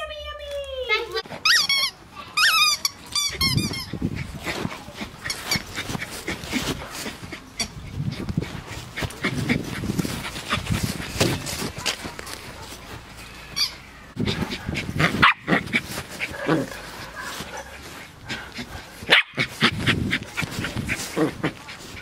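Dogs whimper and bark at dinner time, with high squeaky whines early on followed by scattered yelps, mixed with a voice and other people talking throughout.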